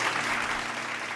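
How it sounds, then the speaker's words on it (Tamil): A church congregation claps hands together in steady, dense applause, a continuous wash of many palms with no break and no voices over it. "கைத்தட்டுங்க ஆமென்."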